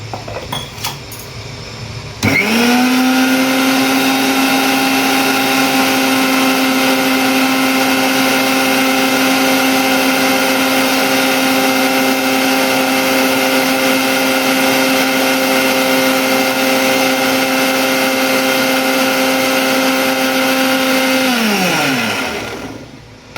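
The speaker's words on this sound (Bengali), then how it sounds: "আরেক বা দুবার পিষালে, চালিয়ে দিলে গ্রাইন্ডার, এটা মোটামুটি হয়ে যাবে।" An electric kitchen grinder runs continuously for about twenty seconds, grinding spice paste for a prawn dish, with a loud, steady high-pitched motor whine that starts abruptly and winds down at the end.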